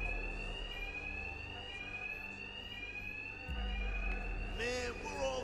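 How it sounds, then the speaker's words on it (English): An alarm rings in Batman: Arkham Knight, a loud, sustained electronic tone that repeats steadily through the whole stretch, with a voice speaking over it and a low rumble joining partway. "Two-Face's thugs won't hear me over the alarm."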